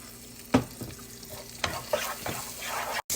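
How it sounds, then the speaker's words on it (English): Cold cooked rice stirred with butter in a hot pan for hibachi; a soft sizzle runs under several scraping, knocking strokes of a utensil against the pan, ending in a brief cut to silence. "You just stir it in with the butter."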